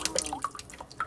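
Water drips and trickles from freshly washed grapes strained through a netted dishcloth in a kitchen, a quick run of light, close splashing drops and small gurgles.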